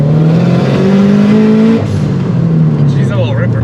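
A turbocharged Scion FR-S running on E85 revs hard nearby, its engine note climbing in pitch, dropping after a shift and climbing again, with people talking over the roar.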